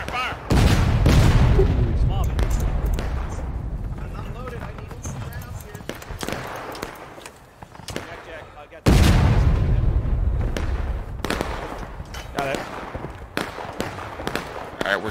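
Artillery and musket fire in the Civil War video game War of Rights: loud booming volleys with scattered gunshots, two heavy bursts separated by a sharp renewed blast midway, with shouted voices over the firing.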